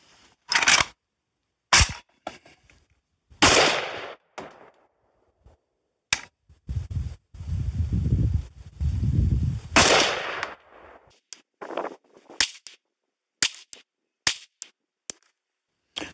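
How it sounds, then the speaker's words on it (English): A PSA AK GF3 rifle fires five-shot groups at 50 yards, making sharp, loud, separate reports spaced irregularly a second or two apart, with quieter rustling and handling noise between some of the shots. "So that's how I'm going to shoot all 4 of the 5-shot groups"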